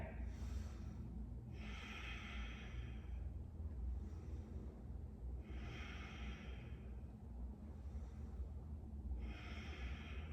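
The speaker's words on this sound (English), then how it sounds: "take 3 full breaths here" Three slow, full breaths drawn during a gentle yoga flow pose, each a soft airy rush swelling and fading at a steady, unhurried rhythm, close and quiet over a low hum.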